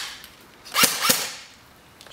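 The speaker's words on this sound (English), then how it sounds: "each time you slide this hop-up adjustment knob, you'll fire your gun and visually get a bead on where your BBs are going." An airsoft AK47 firing BBs: two quiet, sharp snapping shots about a quarter second apart, fairly close against a faint background hiss.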